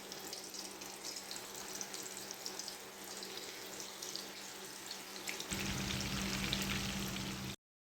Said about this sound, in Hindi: फ्लेम हम यहाँ पर रखेंगे मीडियम फ्लेम पे हम इन्हें फ्राई करेंगे